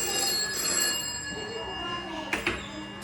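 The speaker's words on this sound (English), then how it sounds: "Talking to you across the room on an old rotary dial phone with the telephone exchange just behind us." An old rotary dial phone rings near a telephone exchange, its bell tone steady and fairly loud throughout with a couple of brief knocks near the end.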